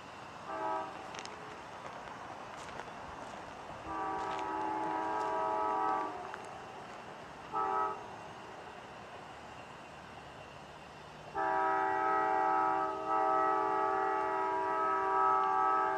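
An Amtrak train sounds its horn repeatedly as it passes: a short blast, a longer one, another brief toot, then a long sustained blast over a low rumble of rail traffic, with no voices.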